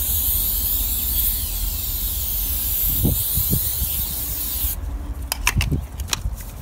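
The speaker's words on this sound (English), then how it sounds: "Take the cap off and just spray it on your tire." Cover All tire dressing from an aerosol can sprays onto a car tire in a steady, close hiss, followed by a few light clicks and taps near the end.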